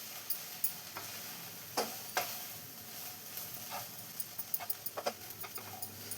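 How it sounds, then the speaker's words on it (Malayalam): Grated coconut crushed with green chilli being stirred into cooked beans for Kerala-style payar thoran in a pan, with scattered scraping taps and soft clicks of a spoon over a low sizzle. "ഇപ്പോൾ എല്ലാം കൂടെ നന്നായി തന്നെ മിക്സ് ചെയ്തെടുത്തിട്ടുണ്ട്"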